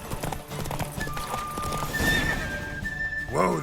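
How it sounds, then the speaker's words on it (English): A horse in The Witcher 3 video game whinnies loudly while its hooves clip-clop in a quick galloping rhythm close by, with a voice briefly heard at the end. "Whoa there, Roach"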